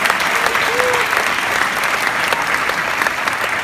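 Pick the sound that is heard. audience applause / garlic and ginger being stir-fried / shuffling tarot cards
audience applause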